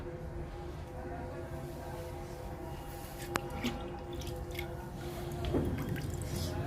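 Liquid fertilizer poured onto indoor potted plants, giving a soft, close trickle and scattered drips over a steady low background hum.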